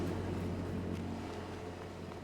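Tractor engine in a farming video game, a steady low motor drone that holds at an even level throughout without voices.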